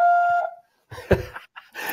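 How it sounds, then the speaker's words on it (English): A single steady electronic beep tone lasting about half a second, followed by brief silence and then faint indistinct noises. "Please leave your message after the beep."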